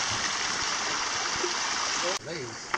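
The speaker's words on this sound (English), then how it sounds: "We out here at the creek getting some water as a group." Creek water runs as a steady, close broadband rush that fills the whole stretch, with voices from a group talking faintly underneath and a brief break and clunk near the end.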